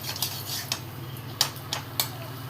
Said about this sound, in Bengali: রান্না করছি বেগুন ভাজা।